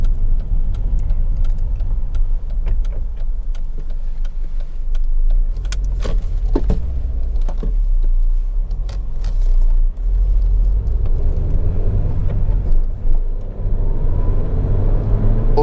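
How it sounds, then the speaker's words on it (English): A Honda Civic 1.8 i-VTEC SE five-door hatchback on a road test, giving a steady low cabin rumble with light rattles and clicks from inside the car, quiet and even throughout with no talking. "Also noticeable when you drive the car, even up to legal limit, they are very quiet cars actually in operation."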